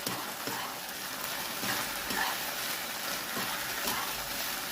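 Fried cauliflower (gobi) tipped into a hot pan of curry and stirred, giving a steady close sizzle and frying hiss with soft scraping stirs throughout, no talking.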